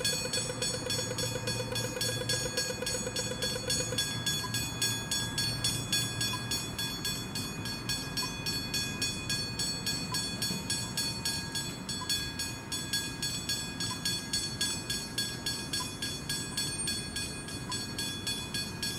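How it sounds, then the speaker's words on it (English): A train rolls through a suburban level crossing in Kooyong, Victoria, a steady loud rumble with rhythmic wheel clatter and a crossing bell ringing throughout, a brief horn-like tone early on and no talk. "I believe the train will be coming through in a minute."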